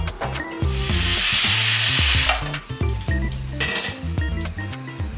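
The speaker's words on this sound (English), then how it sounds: "On the other side, I'm steaming one potato that I can later add to the curry" A single potato steams in a pot on the stove for a curry, giving a steady hiss that swells for a couple of seconds and then drops back under background music.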